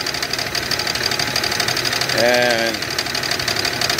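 A car's 3800 Series 2 V6 engine with rod knock runs with a steady, loud, rapid knocking under the engine noise, and a voice briefly speaks over it.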